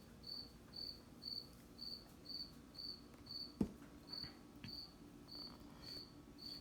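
A cricket chirps steadily inside a room, giving short, evenly spaced trills about twice a second, moderately near, with a single sharp knock partway through and no talking.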